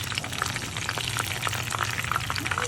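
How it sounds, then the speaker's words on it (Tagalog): Hot oil crackles and spits around chicken frying in a small pan for crispy chicken, a dense close sizzle with frequent sharp pops and no talk. "Ay, pasik-pasik yung mantika."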